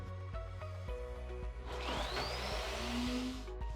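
A Wonderchef Chef Magic food processor with its multifunction blade chops onions and green chili, a steady loud motor whir with rising pitch, running continuously alone.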